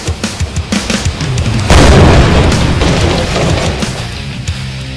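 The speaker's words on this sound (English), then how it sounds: "That was a real grenade, I'm sorry for that." A real grenade explodes with one loud, close boom that follows several short knocks, and the blast's rumble fades out slowly.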